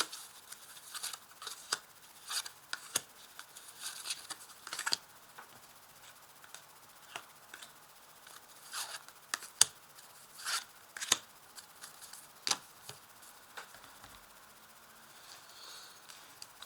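Tarot cards are shuffled and laid out close by, giving soft, quiet papery slides and scattered light flicks and taps, irregular across the whole stretch with no talking.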